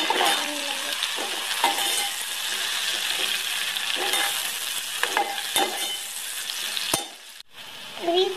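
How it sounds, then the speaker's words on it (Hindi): Onion with garlic and ginger paste sizzles steadily in a pan, close and moderately loud, with occasional scrapes and clinks of a utensil stirring against the metal. "अब हम इसमें अपना लहसुन अदरक का पेस्ट वो भी शामिल कर लेंगे"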